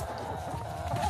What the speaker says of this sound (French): c'est l'élevage de poules pondeuses.